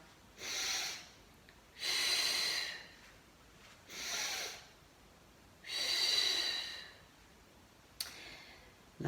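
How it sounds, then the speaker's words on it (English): Five slow, deliberate breaths during a Pilates exercise for osteoporosis, alternating inhales and exhales of uneven length, close and fairly soft, with no speech. "Now breathing in again and breathe out"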